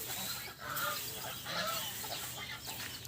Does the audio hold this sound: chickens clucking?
yes